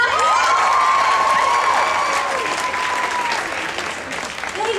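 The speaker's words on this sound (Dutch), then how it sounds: "Mag ik een groot applaus voor Shanna?" Loud, sustained audience applause with cheering and children's shouts at a Voice Kids concert for a young singer, Shanna, close and full at first, then easing slightly toward the end.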